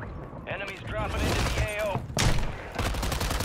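Gunfire in the Call of Duty Warzone video game, a burst of shots with sharp broadband cracks, mixed with game effects and heard alongside someone talking.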